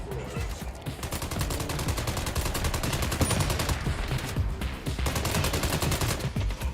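Rapid automatic gunfire in the MindsEye video game aimed at robots, a loud, steady stream of fast repeating shots that runs nearly throughout with brief gaps.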